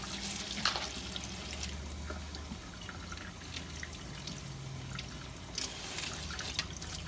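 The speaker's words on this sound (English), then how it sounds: "I am going to rinse my veggies" Home-grown organic vegetables rinsed under a running kitchen tap, a steady wash of water with scattered drips and splashes, close by and with no talking.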